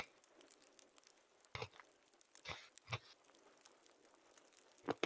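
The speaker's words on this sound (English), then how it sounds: "Can you hear me crunching?" Crunchy bites of a snack being eaten close to the mic, a few sharp separate crunches spread through a quiet stretch with faint background.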